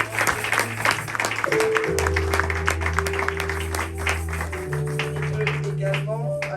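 A church congregation at a thanksgiving service applauds and cheers together, a steady wash of clapping with sustained voices and tones underneath, continuing throughout at moderate loudness.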